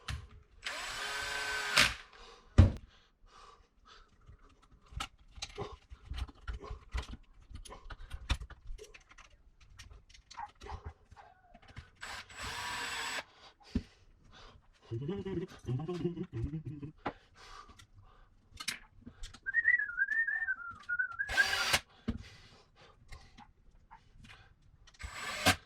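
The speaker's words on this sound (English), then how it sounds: "I'm just putting the screws back in the bottom." Screws being driven into the bottom of an Arrma Kraton 6S V4 1/8 RC truggy chassis, short close bursts of a power driver whirring between quiet clicks and handling noises, with someone talking intermittently.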